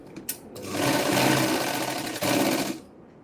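Sewing machine stitching blouse fabric strips together in a single steady run of close, continuous whirring that starts after a couple of brief taps and stops abruptly near the end.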